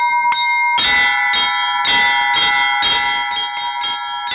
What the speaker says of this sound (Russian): Одних колокольный звон трогает чисто физически.